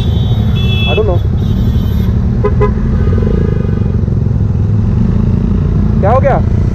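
Horn blasts on a road during a motorcycle ride near Lonavala beside a Benelli TRK 502X, with short toots and a longer blare later on. They sound over steady road rumble while people talk nearby.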